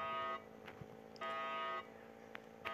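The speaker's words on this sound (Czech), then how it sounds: "Bank alarm." A Roblox Brookhaven bank alarm buzzes in two long, steady electronic bursts separated by a pause, with a few faint clicks in between; no voices.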